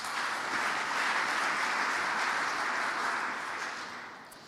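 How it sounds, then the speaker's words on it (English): A conference audience at a symposium gives a steady, dense wash of applause, sustained evenly for several seconds before tapering off at the end. "Big applause for you."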